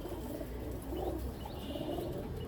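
Pakistani teddy pigeons cooing as a pair, soft low coos repeating over steady background noise, fairly faint.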